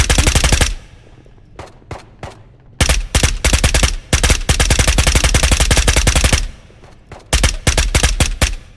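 A Stoner machine gun fires in a video game, loud close bursts of rapid automatic shots broken by short pauses and a few single shots, with no one talking.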